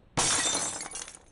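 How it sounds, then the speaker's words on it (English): Glass shattering in an escape video game: one sudden, loud crash with bright splintering that tails off into scattered tinkling fragments over about a second. "I could break the thing with glass right now"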